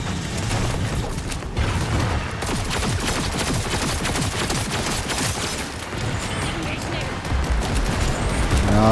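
Rapid automatic gunfire from a weapon in Cyberpunk 2077 Phantom Liberty, a dense, continuous stream of sharp shots that stays loud throughout, with someone talking over it.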